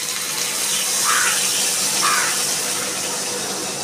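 Water is poured into a pan of bhola fish cooked with ripe red chillies, making a steady, close rushing pour that swells slightly midway and runs without a break.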